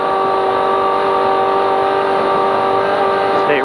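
Heard from inside the cab, a trophy truck's engine roars loud and steady under hard throttle during an off-road spec race, a dense harmonic drone that barely varies throughout.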